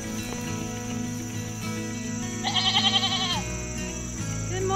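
Goats bleat at morning feeding time, a loud wavering bleat up close over a background of other goat calls and insect chirping, with more bleats trailing off afterward.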